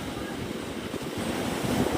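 Steady, broad roar of ocean surf at a beach with a double red flag, waves washing continuously close by with buffeting wind on the microphone and no talking.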